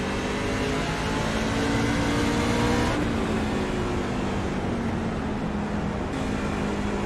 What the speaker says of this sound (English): you can hear that engine